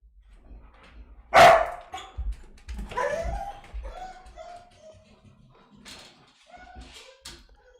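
An Australian Shepherd puppy indoors lets out one loud, sharp bark, followed by softer yips, whimpers and a few light taps that come and go over several seconds.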